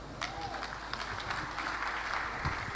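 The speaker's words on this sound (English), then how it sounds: "A huge round of applause for your provost." Faint, scattered applause from an audience at a medical graduates' induction ceremony at Nnamdi Azikiwe University's College of Health Sciences, with distant claps over a low room hum.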